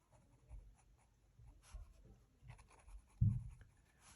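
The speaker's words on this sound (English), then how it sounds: "So I draw them very faint." Pencil drawing lips on paper for a portrait, with soft, faint scratchy strokes in short bursts and one louder rub near the end, close and quiet with no talking.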